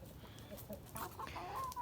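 Several chickens of the Bielefelder, Barbezieux and Liven calico breeds, including a rooster, cluck and murmur close by, with short, scattered calls rising and falling over a soft background.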